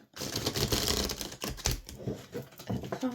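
A deck of oracle cards is shuffled close up, a rapid flurry of papery riffles and taps in uneven bursts, with no talking.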